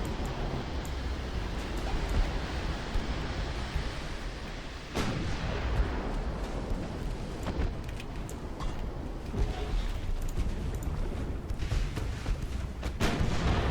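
Eleven-inch battleship naval guns firing in the game Ultimate Admiral: Dreadnoughts, a few distant booms rising out of a dense, constant roar of battle noise and rumble, with no voices.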